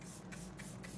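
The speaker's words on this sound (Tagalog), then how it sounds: "Let's try this setting spray from Lovely." A Lovely brand makeup setting spray misted in four quick, close bursts at a steady rhythm, each a soft airy hiss over a faint background hum.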